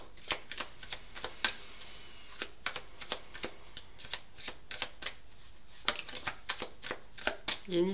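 Tarot cards are riffled and shuffled by hand in a run of quick, crisp flutters and snaps, close and fairly quiet, repeating in short bursts throughout.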